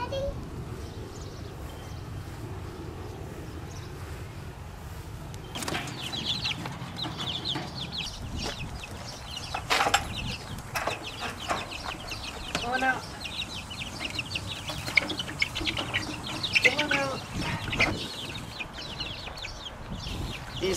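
Young Barred Rock hens, soon to be laying, cluck and chirp in scattered bursts nearby, with outdoor rustling and people talking intermittently.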